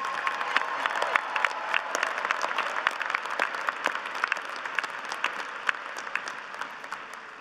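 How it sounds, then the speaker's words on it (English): Sustained applause from a large university commencement crowd, dense clapping that continues steadily throughout and slowly tapers toward the end. "Let's give them all a final loud round of applause."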